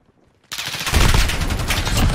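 Rapid automatic gunfire in Call of Duty: Modern Warfare, erupting suddenly after a quiet moment into a loud, dense burst of close shots.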